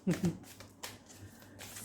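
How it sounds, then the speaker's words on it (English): Cards are riffled and shuffled in a few quick bursts, with talking at the start and some handling clicks. "despite my bad shuffling"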